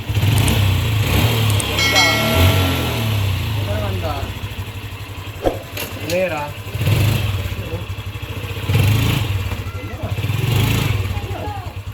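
A Honda Wave CX 110 motorcycle engine with an earlier jerky, bucking running fault starts and idles steadily at close range, with someone talking over the engine throughout.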